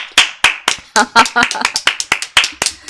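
A few people clap at a Go league awards ceremony, sharp, distinct handclaps in a quick uneven rhythm, close and loud, with a voice briefly speaking amid them.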